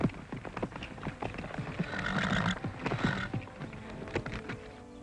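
Horse sounds from a 1950s western ranch series: a neighing whinny over busy clip-clopping hooves and scuffling, steady rhythmic hoofbeats throughout, moderately distant and somewhat muffled.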